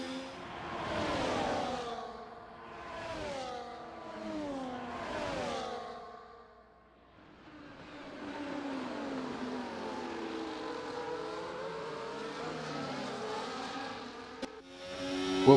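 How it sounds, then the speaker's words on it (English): An F1 car in the F1 24 game at the Qatar Grand Prix, engine revving through gear changes in rising and falling sweeps, then a long sustained, slightly rough roar as wheel spin kicks in exiting the final corner. "we get a big ol' kicker wheel spin out of the final corner"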